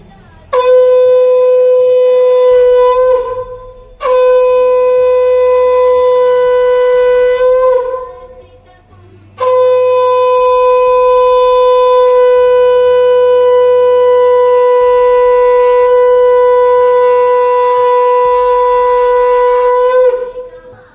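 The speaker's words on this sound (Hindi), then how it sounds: "इसलिए हम शंख बजा के पूजा करते हैं" A conch shell blown during a home Kojagori Lakshmi puja, three long loud steady blasts of a bright horn-like tone, the last sustained for about eleven seconds, with brief pauses between and no talking.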